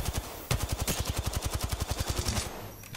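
Rapid automatic gunfire in the Apex Legends video game, a steady stream of about twenty close, punchy shots in even rhythm after a brief gap, with no talking.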